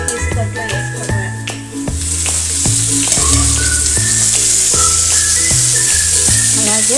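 Raw mango pieces sizzle steadily in a hot pan for a Telugu-style raw mango curry, a continuous close hiss with the clatter of stirring throughout and no talking.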